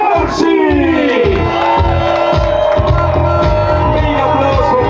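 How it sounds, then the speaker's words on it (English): A large crowd at a motocross event cheers and whoops for the winner of the Dunlop Geomax Challenge, a loud dense wall of shouting that carries on throughout with a tonal horn or siren sounding over it. "Big applause for Valentino Corsi, the winner of the Dunlop Geomax Challenge"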